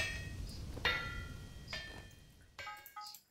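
Metal rings against an anvil as hot metal is hammered in the video game Vintage Story, with a few separate sharp clanging strikes over a faint rumble of wind and storm.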